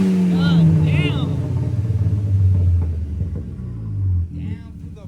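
Audi A4 with its muffler deleted revs hard, a loud, raspy engine roar rising and falling close by, with excited voices shouting over it.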